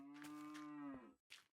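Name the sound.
cows mooing in Minecraft video game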